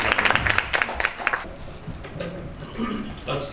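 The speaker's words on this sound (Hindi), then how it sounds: "आपकी भरपूर तालियों में मोहतरम सिद्दीक राजा" An audience applauds at the Nigar Award ceremony held at the PC Hotel in 2012, with dense clapping loud at first, then thinning and fading under murmuring voices.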